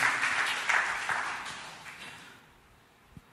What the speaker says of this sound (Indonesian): Berikan tepuk tangan buat Tuhan Yesus